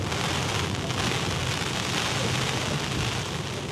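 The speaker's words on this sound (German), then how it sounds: "Das ist der berühmte Hamburger Diagonalregen" Heavy slanting rain in Hamburg pours down as a dense, steady roaring hiss, loud and close, with no break and no voices.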